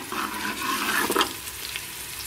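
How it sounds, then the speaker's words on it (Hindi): Garlic and ginger paste sizzles in hot oil in a pan while being stirred for a mutton curry, a steady close frying hiss without talk. "1 टेबलस्पून लहसुन और अदरक का पेस्ट लिया है, ये डाल देंगे और इसे 2 मिनट तक भून लेंगे।"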